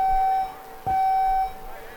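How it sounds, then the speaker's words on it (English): Two electronic buzzer beeps, the 10-second buzzer at a paintball match, sound in quick succession, each a steady tone lasting about half a second, fairly loud over faint background noise. "As we've got the 10-second buzzer here."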